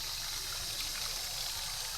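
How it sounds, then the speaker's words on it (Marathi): Water being poured into a bottle, a quiet steady trickling stream that runs on unbroken, with no talk. "आता हे बॉटलमध्ये भरताना पाणी बघा कसं दिसतंय"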